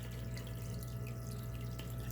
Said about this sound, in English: the water is dripping out the bottom